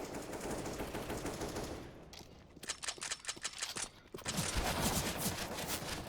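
Automatic gunfire in Counter-Strike: Global Offensive, loud sustained bursts of rapid shots filling most of the moment, with a brief thinner pause of separate cracks before the heavy firing resumes.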